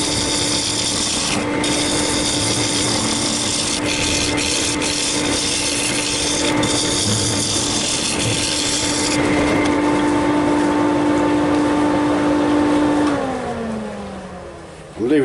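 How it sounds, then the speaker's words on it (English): Round carbide cutter cutting into a large chunk of yew spinning on a wood lathe, a loud continuous scraping rub over a steady motor hum, the pitch dropping as the lathe winds down near the end. "It's a little round carbide cutter."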